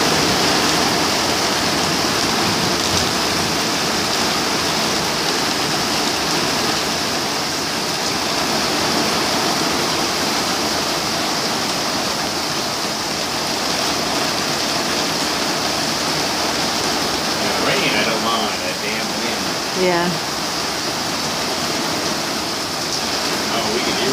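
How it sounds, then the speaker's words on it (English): Steady rain falls outdoors in Sun City, Arizona, as a constant broadband hiss, loud and close, with a few faint voices near the end. "we could use the rain"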